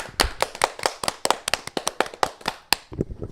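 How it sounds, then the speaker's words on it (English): A small group clapping for someone, a close, loud, slightly uneven run of sharp hand claps lasting a few seconds before trailing off. "Clap for Vasco."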